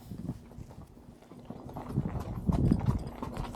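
A horse's hooves clip-clop at a walk on firm ground, a steady rhythmic series of muffled thuds growing slightly louder and closer, with no talk.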